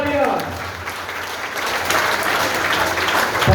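A seated crowd at a business gathering in Kapashera breaks into loud, sustained applause, a thick continuous wash of clapping that holds steady and swells slightly toward the end, with voices mixed in.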